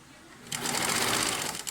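A sewing machine stitches a sleeve onto a jean-style jacket, starting after a brief pause and then running in a loud, steady, fast whir close by.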